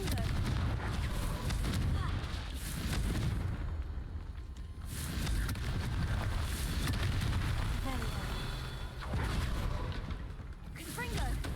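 Booming blasts from the Confringo explosion spell in the video game Hogwarts Legacy recur several times over a rumbling background, while a person talks throughout.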